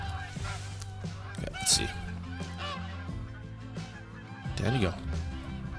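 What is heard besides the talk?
flock of geese honking, from the video game Call of the Wild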